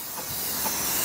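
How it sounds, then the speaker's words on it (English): Dawn Power Wash degreaser sprays onto offset smoker racks as a steady, close hiss that builds slightly in loudness over a brief stretch. "we're just going to take each rack and we're going to spray them"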